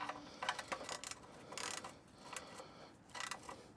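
A ratchet tightens a car oil drain bolt during an oil change on a 2003–2008 Toyota Matrix XR: quick bursts of clicking pawl ticks in three separate runs, close and moderately loud, with no talking.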